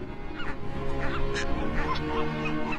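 Nesting seabirds such as boobies, frigatebirds and tropicbirds at a breeding colony on remote Christmas Island, heard as a dense chorus of honking, squawking calls over a constant low background murmur.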